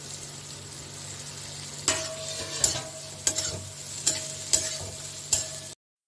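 Two medium onions fry in a pan with grated ginger, a continuous sizzle punctuated by about six regular spatula scrapes and knocks before it cuts off abruptly.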